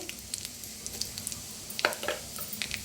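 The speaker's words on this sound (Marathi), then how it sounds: "आता त्याच्यात टाकूया जिरं फोडणीसाठी" Cumin seeds crackle in hot oil for a tempering, a faint, close, irregular spatter of small pops and sizzles that grows slightly busier toward the end, with no voices.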